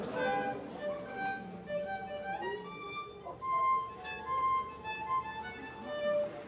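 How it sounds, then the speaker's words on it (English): A violin plays a short series of bowed, wavering notes, some sliding between pitches, moderately loud and alone with no talk over it. "Sometimes the violin sounds like this."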